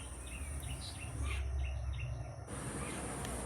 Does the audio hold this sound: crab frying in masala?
no